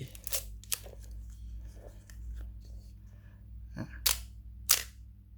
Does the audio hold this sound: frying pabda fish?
no